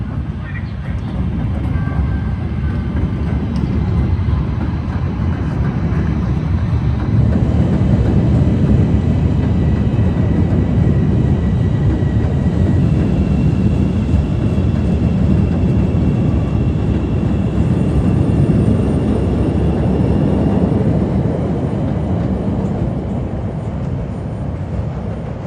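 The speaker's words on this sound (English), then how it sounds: "But here comes a red line, he'll go into the hole, into the subway here." CTA Red Line subway train in Chicago, coming from Howard on the north side and heading into the tunnel at Armitage station, a loud sustained low rumble and roar of rolling wheels with faint higher squeals, steady throughout.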